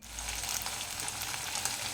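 Anchovies fry in hot oil with a steady, dense sizzle and crackle, close and continuous throughout, with no talking.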